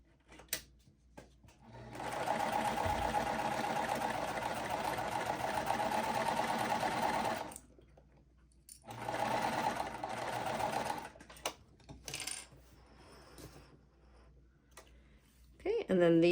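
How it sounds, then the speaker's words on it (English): A sewing machine stitches quilt pieces together in two long runs of steady, close mechanical whirring, split by a short pause, with a few clicks and handling noises between them. "And then we'll sew this."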